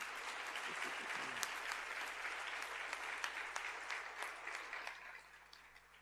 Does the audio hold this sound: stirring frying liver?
no